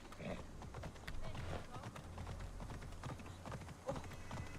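A horse trots in the video game Assassin's Creed Odyssey, its hooves clip-clopping in a quick, steady rhythm under a player's voice talking over the gameplay.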